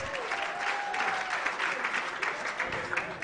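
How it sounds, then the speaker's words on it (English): Conference audience at an electricity transmission research event applauding, steady close clapping filling the room for a few seconds with a faint voice briefly audible. "Let's give him a round of applause."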